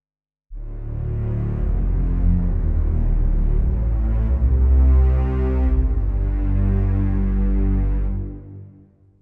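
A sine wave layered under low strings on a keyboard plays as one sustained deep chord, swelling in and holding steady for about eight seconds before fading, with no voices.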